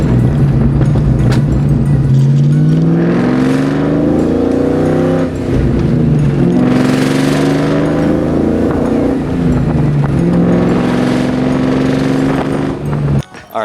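Ford Mustang 4.6 4-valve V8 with Borla exhaust rumbling loudly, revving up in repeated sweeping pulls with a deep burbling drone between them, close and dominant throughout.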